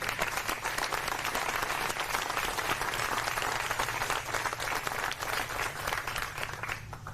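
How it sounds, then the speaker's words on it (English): A press conference audience gives the board of directors a sustained round of applause, dense, even clapping that fills the room for several seconds before tapering slightly at the end. "y'all please give them a round of applause"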